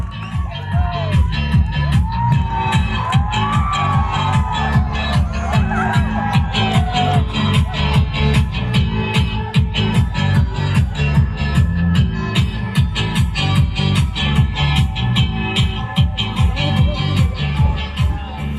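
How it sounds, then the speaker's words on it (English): A crowd cheers and whoops continuously for three male judges coming on stage at a Karbi KYF event, a loud, steady roar of voices with shouts mixed in and no clear gaps. "Cheer up for all the 3 male judges, ladies and gentlemen."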